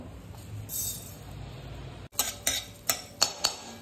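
Coriander seeds roasting in a spoonful of oil, stirred in a pan: a soft low hiss, then a sudden burst of quick metallic spoon clinks and scrapes against the pan, close up and with no voices.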